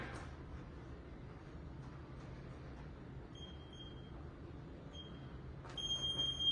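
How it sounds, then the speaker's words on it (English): A steady electronic interval timer beep sounds in short bursts, a brief one then a longer, louder cluster near the end, over a low rumbling background in a workout class. "when I hit the clock, you hear the beep, you're going to begin"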